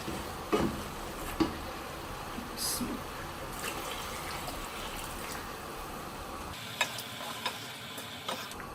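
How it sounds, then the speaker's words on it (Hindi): Water poured into a cooking pot of beef and vegetables for a lasagna sauce, a steady close trickling wash with a few light ticks and clinks of utensils. "अब हम इसमें 2 गिलास पानी के ऐड करके इसको पका देंगे।"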